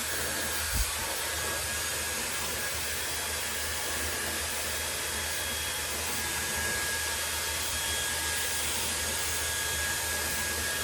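A Dyson Airwrap hair styler blow-drying hair on the medium setting gives a steady, loud, continuous whoosh of airflow with a faint high whine, unbroken for the whole stretch with no talking.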